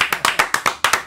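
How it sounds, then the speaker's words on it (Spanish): A short burst of rhythmic hand clapping for a guest bulb specialist on a Spanish comedy show, about ten evenly spaced claps in under a second, crisp and close, with no voices. "¡Un fuerte aplauso para José Bombilla!"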